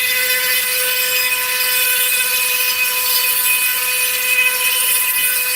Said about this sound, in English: So now she can make a great start at starting to drill through that.